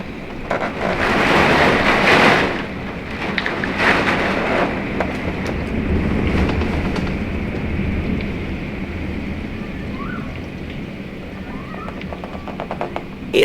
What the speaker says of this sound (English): It's definitely still very windy and raining, but not as intense as last night.